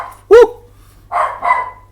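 A single sharp dog bark rings out near and loud, followed by a pause and then two shorter, softer barks or yips.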